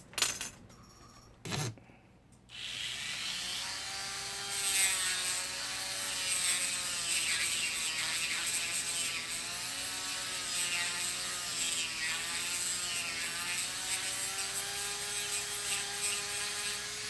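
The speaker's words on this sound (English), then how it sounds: "I'll just take a round sanding bit and I'll go back and forth until I see daylight." A rotary tool with a round sanding bit whirs at high speed as it grinds back and forth through a plastic grill. The motor pitch shifts up and down with the load, after a few clicks and knocks at the start.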